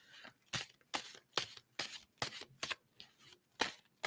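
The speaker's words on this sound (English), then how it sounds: "And I'm going to stop shuffling" Playing cards being shuffled in a series of about nine sharp riffling bursts at an irregular rhythm, close and fairly loud, with no voices.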